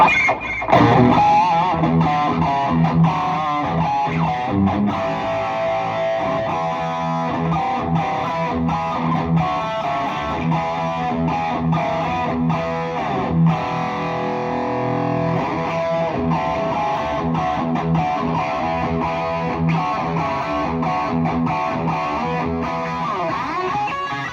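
Electric guitar with a Lambertone Grinder pickup played through a Tube Screamer overdrive, sustained distorted chords and riffs ringing on steadily for the whole stretch, loud and up close with no talking.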